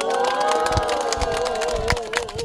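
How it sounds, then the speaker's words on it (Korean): A crowd at an outdoor political rally in South Korea applauds and cheers, with loud, continuous clapping mixed with sustained voices and a droning tonal sound underneath, steady throughout. "여러분 박수 크게 한번 보내주세요"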